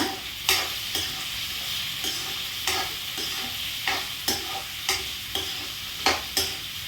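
A spatula scrapes rhythmically through a potato stir-fry (urulaikkilangu poriyal) in a pan, about a dozen sharp strokes over a soft constant sizzle, close and clear with no talking.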